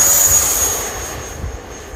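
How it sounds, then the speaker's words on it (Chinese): A remote-control F-16 model jet preparing for its first flight, a loud steady high-pitched jet engine whine close by that eases slightly, with no talk. "大 F 十六战斗机啊，准备首飞。"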